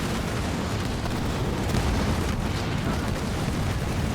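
Scatter bomb explosions in the Halo Wars 2 real-time strategy game, a dense continuous rumble of blasts and booms, loud and unbroken throughout.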